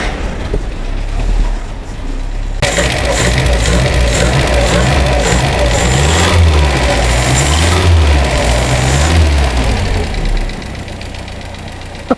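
A 1972 Datsun 620 pickup engine with a never-opened carburetor starts up after a short low rumble, then runs loud and close with an uneven, knocking idle and occasional revs for about ten seconds.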